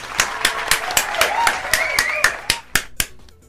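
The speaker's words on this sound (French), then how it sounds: "Eh ben, vous pouvez l'applaudir, bravo!" Audience at a French TV show about 1990s objects applauding: scattered, fairly close hand claps in a loose rhythm that thin out toward the end, with murmurs from the crowd beneath.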